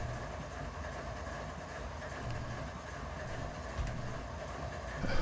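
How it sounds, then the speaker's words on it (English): Heavy road locomotives roll along the rails during switching work in Run 8 Train Simulator, giving a steady rumbling train noise with faint clickety-clack and a brief louder bump near the end, without talk. "you tend to be switching with these giant road locomotives, which have really slow response time"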